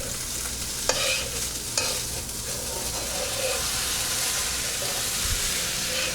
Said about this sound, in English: You wanna continuously stir. Don't stop stirring, you're just gonna burn at the bottom of the wok.